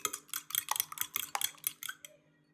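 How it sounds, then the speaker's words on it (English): Egg whites beaten by hand with a fork in a bowl, giving a quick run of about a dozen bright, close metallic clicks and scrapes in a fast, slightly uneven rhythm before stopping. "Beat the whites with a fork until they turn light and foamy."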